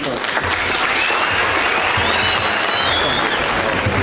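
A crowd at a farewell ceremony in Narok claps in sustained, dense applause that holds steady and loud throughout, with no break, close and filling the space.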